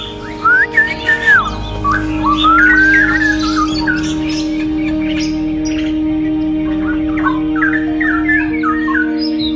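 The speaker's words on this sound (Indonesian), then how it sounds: "Ini dia suasana pagi gue di aviari sambil dengerin kicau burungnya ya" Birds call in an aviary in the morning, with bright whistles, chirps and squawks clustering near the start and returning later. The calls sound fairly close and carry over a steady low hum.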